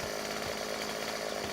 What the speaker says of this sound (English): get the chainsaw